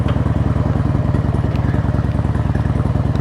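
Fuel-injected Harley-Davidson Road King motorcycle idling just after starting, a loud, close, steady loping thump of the engine firing in an even rhythm with light mechanical clatter on top.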